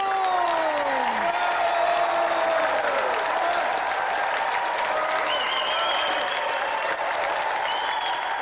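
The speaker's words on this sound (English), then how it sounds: "let's have another round of applause for Callum Green and tonight's special guest" A studio audience at the Games Master TV show applauds loudly and steadily, a dense sustained clapping that fills the whole stretch.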